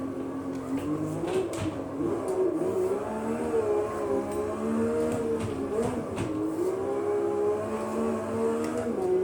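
A race car engine in the Automobilista 2 driving simulator hums and revs steadily with a wavering drone, continuous and moderately loud without speech.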